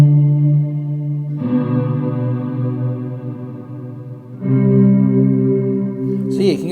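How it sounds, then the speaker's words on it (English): Sustained electric guitar chords through an Electro-Harmonix Holy Stain pedal ring out drenched in heavy reverb, washing into a long shimmering tail before a second swelling chord. "you can get some really nice ethereal sounds using that reverb"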